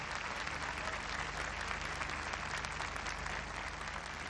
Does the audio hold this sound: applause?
yes